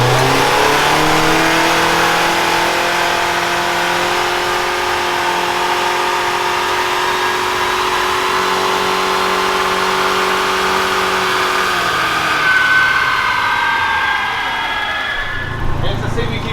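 A rental car with a CVT transmission runs on a dyno, its engine held at a loud, steady high rev for a long stretch before the pitch climbs briefly and then drops off, with speech over it.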